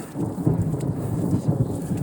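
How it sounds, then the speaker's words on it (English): Rolling thunder over heavy torrential rain during a storm at a gravel cycling race, a continuous loud low rumble with dense rain hiss throughout. "it just came through and kaboom, torrential downpour. The lightning is crazy."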